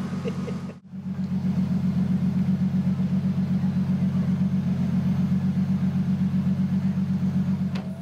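A car with a nearly 700 horsepower engine and 800 torque, a deep pulsing rumble that holds steady and loud after a short break, close by, with a faint voice early on.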